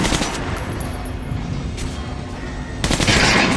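Rapid automatic gunfire from the weapons in Metro: Last Light Redux rattles on in one loud, continuous burst, with a short pause before a final volley.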